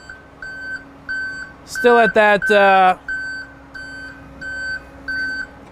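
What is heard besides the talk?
warning beeps of fire truck lowering on auto-leveling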